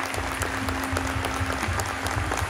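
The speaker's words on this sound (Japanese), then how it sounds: "改めて監督、選手に大きな拍手をお送りください。" Sustained audience applause at the close of the Nagoya Grampus 2023 new-lineup presentation, honoring the coach and players; dense, steady clapping from a large crowd with a faint tone and murmur underneath.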